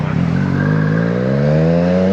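A car engine rises steadily in pitch as it approaches, loud and close, with no voices.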